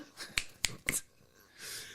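Three sharp, close finger snaps about a quarter second apart, done in imitation of Thanos's snap, followed by a short soft breathy rustle.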